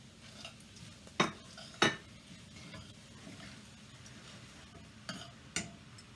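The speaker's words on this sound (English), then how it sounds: "So now we're going to add that bacon. And toss that around." Bacon is tossed and stirred in a pan for cabbage-filled lazy pierogi, with four sharp utensil clanks against the pan over a faint, steady sizzle.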